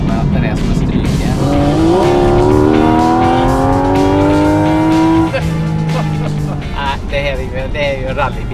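A Porsche rally car on a track revs loud and high, its engine pitch climbing steadily for several seconds before dropping off, with tire squeal and voices talking over the noise.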